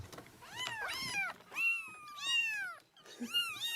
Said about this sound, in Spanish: Ya, son gatitos.